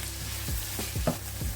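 Onions sauté in a pan for an egg and prawn gravy, a steady close sizzle with a few scraping stirs of a spoon, and no talking.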